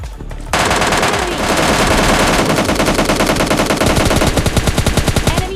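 Video game gunfire in PUBG Lite, heard as loud, sustained rapid-fire bursts with dense, rhythmic shots packed throughout and no pause.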